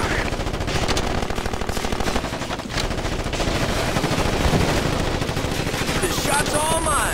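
Ghost Recon Advanced Warfighter 2 firefight with dense, continuous machine-gun fire and overlapping shots rattling loudly for several seconds, likely with game voices mixed in.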